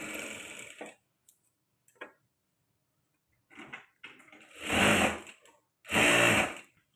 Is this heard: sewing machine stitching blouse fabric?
yes